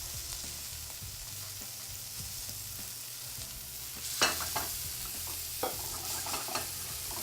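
Food sizzles and fries in a hot pan, a steady crackling hiss close by, with a few sharper clatters of stirring and scraping partway through.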